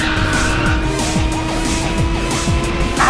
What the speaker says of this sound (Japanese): いいドリフトじゃ。